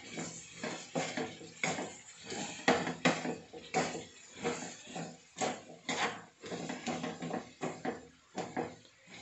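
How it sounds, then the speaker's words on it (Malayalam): Beetroot being stirred with salt and turmeric in a pan for mezhukkupuratti, giving repeated scraping and clinking of a spoon against the pan in a steady rhythm, close and moderately quiet, with no voices. "ഉപ്പും ഇട്ട് മഞ്ഞൾപ്പൊടി ഇട്ട് ഇനി നല്ലോണം ഇളക്കട്ടെ"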